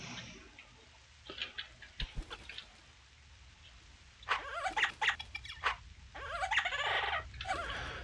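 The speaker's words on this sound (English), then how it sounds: "Look, a chicken." Chicken clucking in a video game, a few soft, scattered clucks under a faint steady background, with louder bursts of fowl calls later in the clip.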